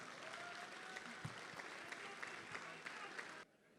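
A Dubai audience at an Indian Republic Day kavi sammelan greets a poet with sustained, dense applause, steady and full, which cuts off abruptly near the end.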